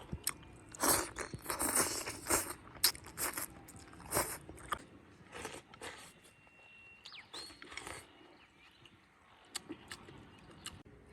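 Close, crunchy chewing and biting while eating paddy-field fish boiled in homemade sour soup, cooked with scales and innards left in; irregular bursts of crunching and mouth sounds repeat throughout, with no talk.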